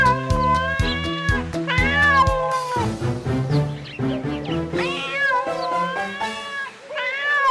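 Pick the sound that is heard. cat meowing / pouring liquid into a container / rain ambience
cat meowing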